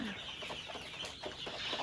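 Egyptian Fayoumi chickens on a farm cluck in quick, soft bursts nearby, a short busy patch of clucking over a low background murmur.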